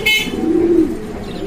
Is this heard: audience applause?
no